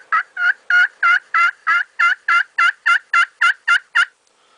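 A hand-operated turkey call yelps in a steady run of about fourteen evenly spaced, loud, close notes, alone with no voice.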